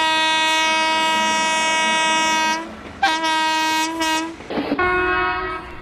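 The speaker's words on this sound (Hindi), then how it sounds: "दो छोटा एक लंबा, ये 2 छोटा 1 लंबा का मतलब होता है चेन पुलिंग" Indian Railways train horn sounding a loud, close pattern of two short blasts followed by one long blast, rich in harmonics, with no talk.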